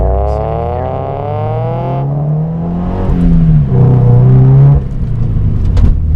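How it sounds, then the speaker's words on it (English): A Toyota 86 fitted with a DC Sports cat-back exhaust accelerates from inside the car, a droning exhaust note rising in pitch over a few seconds, close and loud with rumbling underneath. "when you're on it, it does make quite a bit of noise. I'll just accelerate a little bit here."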